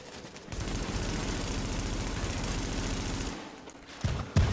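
Rapid bursts of firecracker-like gunfire in The Division, a steady crackling volley running for about three seconds at moderate distance, then a few sharper close reports, with no talk over it.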